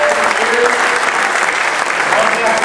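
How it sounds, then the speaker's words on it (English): Steady, dense applause from an audience at a company awards ceremony honouring a top performer in year-to-date net profit, loud and continuous throughout with no break. "Let's give Michael one more big round of applause"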